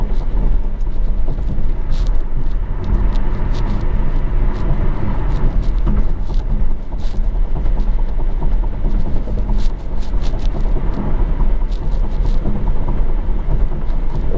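A 2018 Alfa Romeo Stelvio accelerating hard through its eight-speed gearbox, with loud, constant engine and road roar filling the cabin and brief dips at shifts; no talk.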